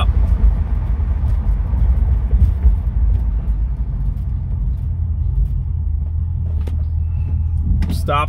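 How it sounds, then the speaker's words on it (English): A car engine rumbles low and steady while driving, the sound easing as the vehicle slows toward a stop, with a brief higher squeal near the end. "This car drives really nice."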